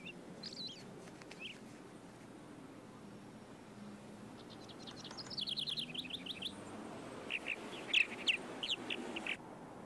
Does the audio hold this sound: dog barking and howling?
no